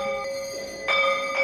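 Tall Hindu temple bell at Modi Mandir in Modinagar, rung by hand, giving a bright metallic ringing tone with two strikes close together that sustain and shimmer over a steady hum, no speech.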